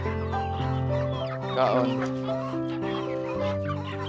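Farm chickens cluck over steady background music while being fed fermented feed made from madre de agua and banana trunks. A person speaks briefly.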